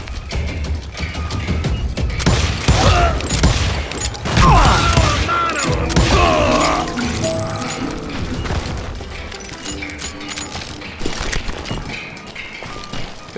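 Enemy gunfire in the Western shooter game Call of Juarez: Gunslinger, rapid volleys of overlapping shots with booming impacts, ricochets and clattering gun mechanics, loud and dense for several seconds before thinning toward the end.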